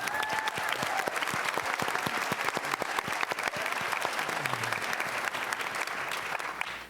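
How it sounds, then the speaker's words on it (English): A high school auditorium audience at a community meeting gives a full round of applause, many hands clapping densely and evenly at moderate volume for the whole stretch, with no talk over it. "let's have a round of applause for these 2 fine students"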